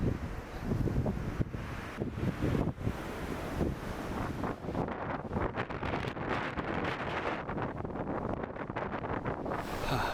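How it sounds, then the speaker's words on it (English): Strong wind roars and buffets the microphone while cycling into a headwind in the rain, a dense, continuous rumbling rush that stays loud throughout. "Rainy and windy, and we're cycling into the wind"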